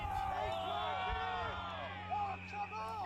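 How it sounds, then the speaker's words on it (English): A crowd cheers and shouts at an Adelaide Footy League Division 1 amateur football match on a windy day, with overlapping voices and rising whoops forming a steady, lively din throughout. "the crowd's getting into it"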